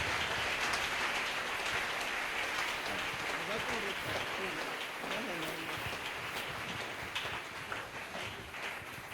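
Church congregation applauding to welcome the preacher, a thick, steady patter of clapping at moderate distance, with faint voices and a brief sung or spoken tone mixed in midway.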